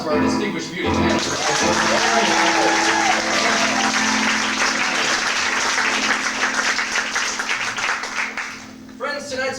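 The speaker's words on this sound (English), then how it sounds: "Ladies and gentlemen, a round of applause for our distinguished beauty manager." Loud, sustained audience applause fills a pageant hall, a dense wash of clapping with crowd noise and voices mixed in, fading near the end before a voice returns.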